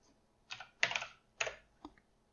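Several quiet, crisp keystrokes on a computer keyboard arrive in a short, uneven burst of four or five clicks, close up and set against near silence.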